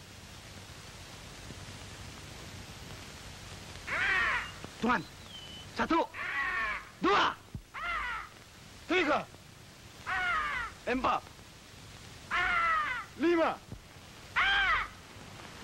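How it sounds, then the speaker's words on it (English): A white peacock in the Borneo jungle calls in a string of loud, harsh, wailing cries, each one short and separated by pauses. A man counts aloud between the calls. "That was the call of the white peacock."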